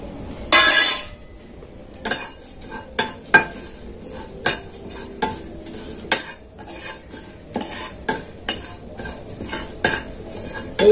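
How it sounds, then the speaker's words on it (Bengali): Whole spices, coriander, fennel and panch phoron, dry-roasting in a hot dry pan, heard as a steady run of sharp metallic scrapes and clinks of a utensil stirring, roughly one every half-second to second, close and moderately loud with no talk. "এগুলো এবার আমি শুকনো খোলায় ভেজে নেব"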